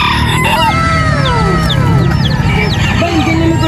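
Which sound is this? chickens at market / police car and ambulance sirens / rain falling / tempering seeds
chickens at market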